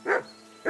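Dog in the video game Kingdom Come: Deliverance II gives two short, close barks separated by a brief pause, with no talking.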